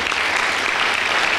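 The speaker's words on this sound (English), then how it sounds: "give them a round of applause" Conference audience at a 2011 morning session clapping, dense steady applause from a large crowd filling the hall at even loudness throughout.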